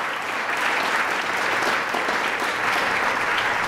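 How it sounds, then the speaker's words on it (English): Steady, dense audience applause fills the room at a governor's press event launching a nail salon consumer awareness campaign, continuous and unbroken throughout. "let's give her a round of applause for the great work that she's doing"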